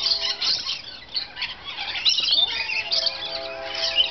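Lorikeets being fed at Micke Grove Zoo in Lodi squawk and squeal constantly, shrill overlapping calls from several birds at close range.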